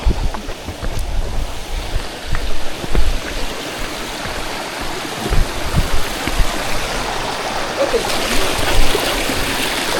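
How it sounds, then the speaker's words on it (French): Water rushes and splashes as a trail runner crosses the small Saint-Bernard river during a trail race, a loud continuous stream with footfall splashes close by. "on va passer à nouveau une petite rivière"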